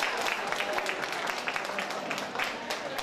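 Dense, lively applause from an audience for a contest winner, steady close clapping lasting the whole stretch.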